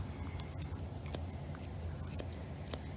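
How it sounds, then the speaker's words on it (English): Scissors trim the hair between an English Springer Spaniel's toes, giving several quick, crisp snips over a low, steady background hum. "Just gently trimming around the outside in between his toes here"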